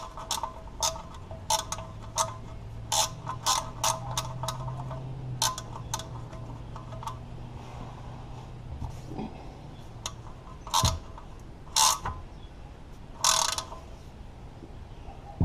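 Tightening the oil drain plug on an MK6 Volkswagen GTI produces a string of sharp ratcheting clicks and taps, irregular and close, with a few louder snaps toward the end over a faint hum.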